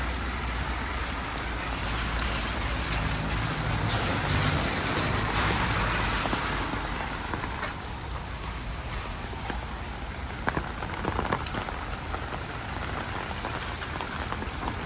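Rain falls steadily on a city street in Lviv, making a constant hiss with scattered drops and some faint street sounds beneath.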